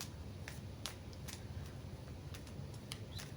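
Quiet, irregular riffling and soft snapping of playing cards being shuffled, a few crisp flicks over low background hiss.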